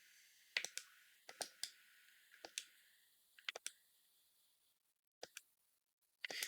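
About ten crisp mouse clicks advancing dialogue in the Kottefolket game, sharp and quiet, falling in irregular pairs and singles with short pauses between and no talking.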